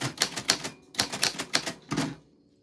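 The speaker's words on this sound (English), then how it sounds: "Your name fell on the typewriter bell." Vintage typewriter striking out a name: a quick run of loud, sharp key strikes in two short bursts, close-up, then a final clack before falling silent.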